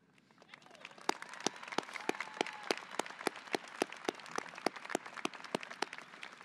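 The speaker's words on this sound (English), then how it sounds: "That always brings a good applause from the student, from the parents." Scattered clapping from a high school graduation audience of students and parents honoring scholarship recipients, sharp individual claps standing out over a soft crowd murmur, building in the first second and then holding steady.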